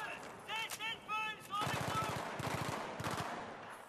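Rapid bursts of automatic gunfire from the video game Battlefield 3 rattle out in several short volleys in the second half, after some brief sounds and voices at the start.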